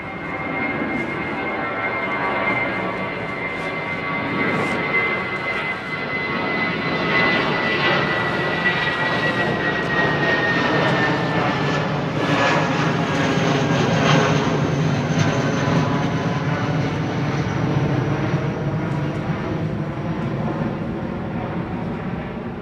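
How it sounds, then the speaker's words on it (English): A Singapore Airlines Boeing 777 jet departs Heathrow Airport with a loud, sustained engine roar and a slowly falling whine, building and then holding steady across the whole stretch with no talking. "777 of Singapore Airlines, Karina."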